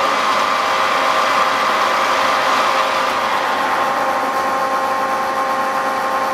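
Vertical head of a Cincinnati Cinova 80 universal milling machine running at 700 RPM, a steady, loud mechanical hum with a fixed tonal whine and no talk.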